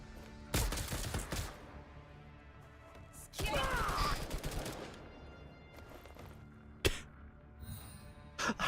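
Gunfire in Girls Frontline 2: Exilium, three loud bursts of rapid shots with quieter gaps between, the last a single sharp crack, with a voice talking faintly in between.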